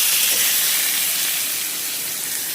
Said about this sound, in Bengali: আলুটাকে লাল লাল করে ভেজে দিচ্ছি